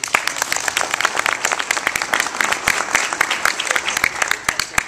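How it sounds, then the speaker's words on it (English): An audience at a corporate celebration applauds, with sharp individual claps standing out from a looser spread of hands. The clapping is fairly close and uneven and keeps going throughout. "Thank you for the applause"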